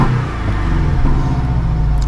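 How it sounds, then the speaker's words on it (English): A 2021 Porsche 718 Boxster T engine idling in its quieter exhaust mode, a loud, steady low rumble with a slight throb and no talking. "listen, we're just idling along here"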